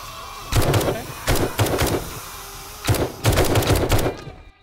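Rapid bursts of gunfire in the video game Seven Days To Die, several loud volleys separated by short pauses, sharp and close.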